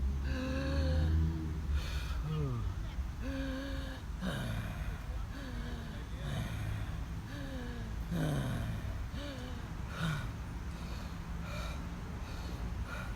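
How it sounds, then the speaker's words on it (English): A person makes repeated raspy, throaty breaths, about one per second, close and steady over a low rumbling background. "we're going to have that raspy wind or noise coming from our throat"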